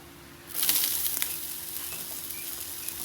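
Onions dropped onto a hot Blackstone 22-inch griddle burst into a bright, loud sizzle that settles into a steady frying hiss, with a faint low hum beneath and no talking.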